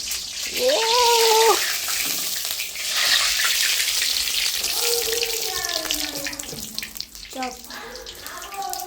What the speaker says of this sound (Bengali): ইন্দু চপ ভাজছে আর সে নিজেই খেয়ে যাচ্ছে এখন